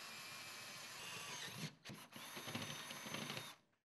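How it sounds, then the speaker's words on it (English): Power drill with a 9/16 inch bit boring through metal studs, a steady high whine with a brief stutter midway before winding down to silence at the end. "Using a 9/16 inch drill bit, drill holes at the pilot holes through the metal studs"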